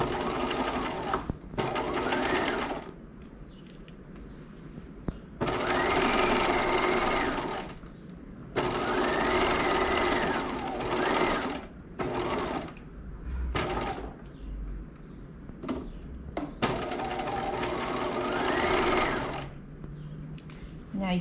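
A sewing machine stitches a 5/8-inch seam through lace in repeated whirring runs of a few seconds each, close and loud, separated by short pauses, with a voice talking between and over the bursts.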